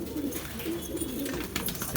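A Hyderabadi Sendha pigeon of an old breed coos nearby in soft, low, rolling phrases that repeat across two seconds amid light background noise.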